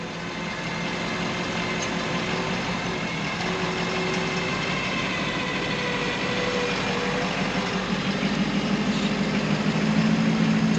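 A Ford F350 truck with a camper idles during a creek mud recovery, its heavy engine giving a steady low rumble that builds slightly toward the end, close by and without any talking.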